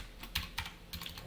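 Quiet typing on a computer keyboard, a handful of separate key clicks spread unevenly across about a second, close and isolated with no talk.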